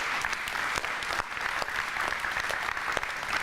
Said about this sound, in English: So can we give them an applause?